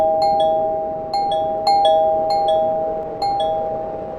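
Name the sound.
bell ringing sound effect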